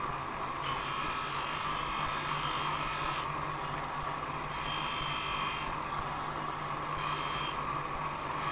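Stitch mop buffing wheel dressed with sateen greaseless abrasive, polishing metal on a 1927 motorcycle lamp, giving a steady, close motor whine with a rough abrasive hiss that swells and eases as the piece is worked.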